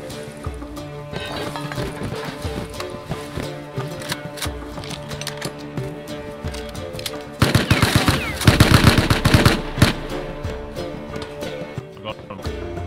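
Rapid AK rifle fire in the Rust survival game, bursts of sharp shots crackling in quick rhythm, building to a louder, denser volley near the end, mixed with other game noise and low background chatter.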